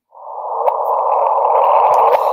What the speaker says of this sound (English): This is the sound of two black holes colliding and merging.